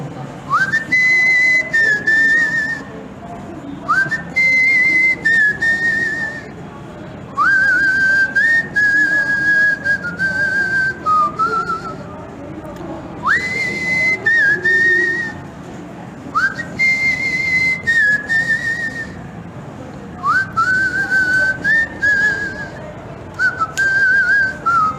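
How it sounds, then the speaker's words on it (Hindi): A teacher whistles a tune during a physics class while filling liquid, with rising, held melodic phrases repeating in bursts with short pauses, loud and close, no talking. "थोड़ा सीटी वीटी बजा लेता हूँ"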